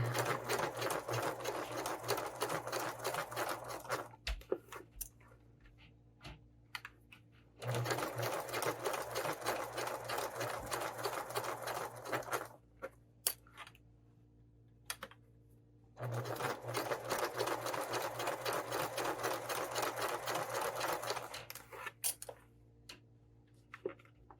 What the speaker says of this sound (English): I go back a little stitch and then forward